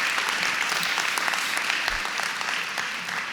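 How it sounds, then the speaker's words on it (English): Steady applause from a crowd at an elementary school ribbon-cutting, honoring local firefighters and police, dense and even throughout with no break. "give a round of applause for our local firefighters and police department"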